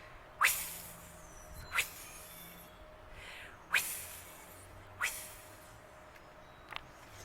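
A voice imitates a rotating sprinkler with short, sharp hissing bursts repeated at a steady interval, about five of them, each fading quickly.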